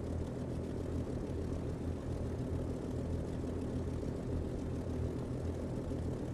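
Propeller engine of an XF-11 aircraft in Microsoft Flight Simulator 2020, a steady, loud, continuous low drone with dense rumbling texture throughout, no voices.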